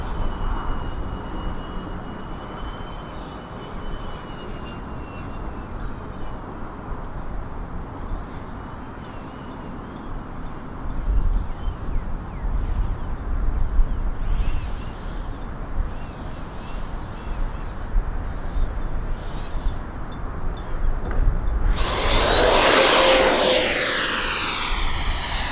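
A Freewing F-14 Tomcat RC model jet with twin 80mm electric ducted fans aborts a carrier-style landing and goes around, its whine faint and distant at first, then swelling into a loud, close roar as it passes.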